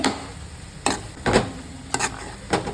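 Brinjal curry with small onions is stirred in a pan, giving several separate scraping strokes of a spoon against metal, close and alone over a faint sizzle.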